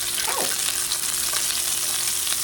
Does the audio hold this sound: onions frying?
yes